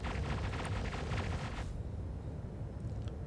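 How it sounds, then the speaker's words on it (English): A size 1 marksman missile launches in a space combat game with a loud roaring whoosh and rumble that cuts off sharply about halfway, leaving a lower steady hum behind. "I will fire now 1 size 1 marksman missile"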